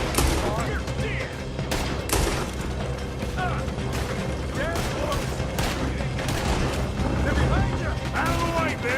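Shootout gunfire from the video game Red Dead Redemption 2: repeated sharp rifle and pistol shots and bursts crack throughout, dense and loud, mixed with shouting voices and clattering gun mechanisms.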